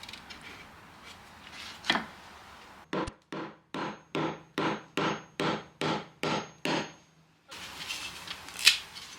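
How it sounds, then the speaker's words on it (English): A hammer drives a chisel into hardened wood filler on a 1930s Art Deco walnut bureau, about ten sharp, evenly spaced knocks close up, with quieter scraping before and after. "I'm now going to use a chisel and a hammer to try and get it off."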